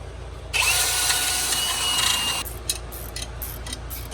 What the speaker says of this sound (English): we're going to hit that with a wire wheel and then some penetrating oil